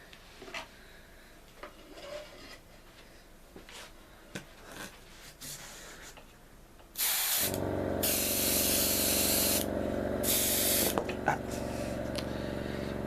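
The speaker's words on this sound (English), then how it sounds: "let's use the spray gun for the first time" After several seconds of quiet handling noises, a spray gun painting a 1/48 F-15E Strike Eagle model kit bursts into a loud, steady hiss of spraying, briefly pausing twice before continuing.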